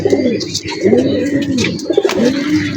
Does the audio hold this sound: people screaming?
no